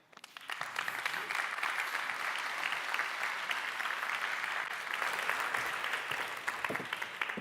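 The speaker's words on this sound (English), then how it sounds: "Another round of applause because show, don't tell" Sustained applause from a large summit audience, steady and dense throughout after a quick rise at the start, with some voices mixed in.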